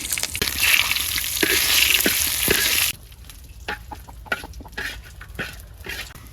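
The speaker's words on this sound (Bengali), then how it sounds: "তেলের উপর তেল দিয়ে দিলাম মরিচ দিয়ে দিলাম" Green chillies dropped into hot oil in a village kitchen give a loud, crackling burst of sizzle that cuts off after a few seconds, followed by scattered pops, clicks and chickens clucking nearby.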